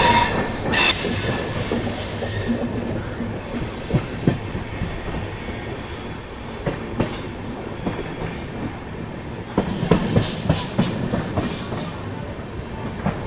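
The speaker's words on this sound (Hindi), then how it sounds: "बाकी चलिए निकल चुके ट्रेन अपनी लालगंज से।" The 14218 Unchahar Express runs along railway tracks near Lalganj on a foggy day, a close rumbling roll with repeated clacks over rail joints and squealing wheels, its loudness rising and falling throughout.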